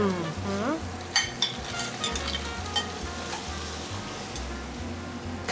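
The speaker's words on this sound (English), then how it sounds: "So now we put them the mussels and the clams." Mussels and clams sauté in a pan for a pasta dish, a soft continuous sizzle with occasional light clinks of utensil against pan, fairly quiet, under a low steady background hum.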